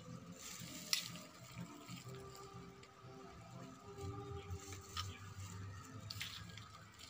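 Water poured into a blender jar over broken ice while making a guyabano shake, a soft, steady splashing trickle at low level, with a few faint clinks along the way.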